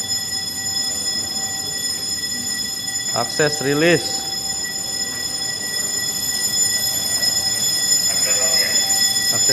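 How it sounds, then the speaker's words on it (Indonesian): A building's general fire alarm, set off by a break-glass call point during a test, sounds as steady electronic tones running throughout, while a person speaks briefly over a crackly radio. "demikianlah pengetesan alarm kebakaran dengan briglas"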